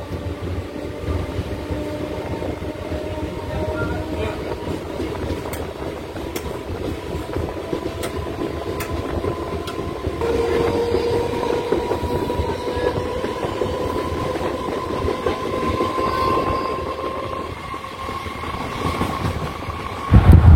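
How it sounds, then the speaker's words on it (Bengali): A local train on the Bandel–Barddhaman line runs from Shaktigarh toward Gangpur, a steady loud rumble of wheels and carriages with a rising tonal whine and light clatter throughout, no voices. "একদম সঠিক নির্ধারিত সময়ে শক্তিগড় থেকে আমাদের ট্রেন ছেড়ে দিয়েছে"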